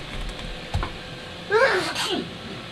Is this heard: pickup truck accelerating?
no